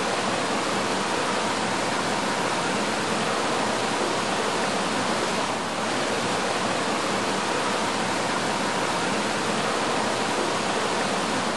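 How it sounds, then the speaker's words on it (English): A waterfall running high at a swimming spot pours in a loud, constant broadband roar that stays steady and close throughout, with no voices. "Anyway, you can see some of the falls."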